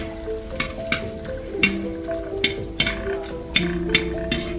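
Cashews and black raisins fry in hot oil in a pan with a continuous bright sizzle, broken by regular sharp clinks and scrapes of a spoon against the pan, close and fairly loud, with no voices.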